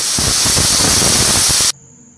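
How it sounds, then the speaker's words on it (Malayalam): Steam hisses loudly and continuously as a pressure cooker making ghee rice releases its pressure, then cuts off abruptly to near silence. "ഇപ്പോൾ നമ്മുടെ പ്രഷർ കുക്കറിലെ പ്രഷറെല്ലാം റിലീസ് ആയിട്ടുണ്ട്"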